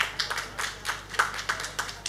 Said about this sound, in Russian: Это были аплодисменты за первый фрагмент.